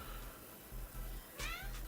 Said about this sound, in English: that's my little cat